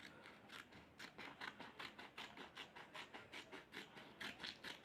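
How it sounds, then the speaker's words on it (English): Scissors snip open a Flipkart delivery packet in a steady run of short, crisp cutting strokes, close and fairly quiet, with no talk over them. "So first of all I will cut it with scissor."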